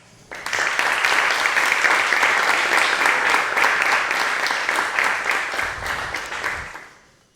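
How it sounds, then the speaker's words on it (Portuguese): Applause fills a municipal council chamber during a youth council session, the clapping rising quickly, holding steady and loud, then thinning out and fading away at the end. "uma salva de palmas para todas as mulheres, não só do Brasil, e sim do mundo inteiro"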